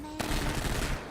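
Rapid automatic gunfire from a weapon in Grand Theft Auto Online crackles as a dense, loud burst of shots fired close up, beginning abruptly and running for about a second.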